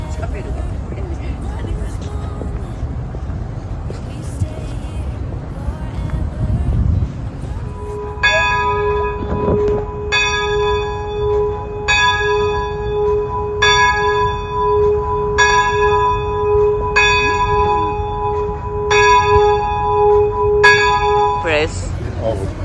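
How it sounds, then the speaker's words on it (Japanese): Church bells ring in a regular, repeated pattern of clear resonant strikes, beginning partway through after a stretch of background murmur and traffic-like rumble, with people talking nearby. "鐘？"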